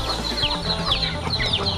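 Domestic village chickens cluck continuously at dusk on a rural farm, several birds close by with overlapping short calls and a dense background of farmyard noise.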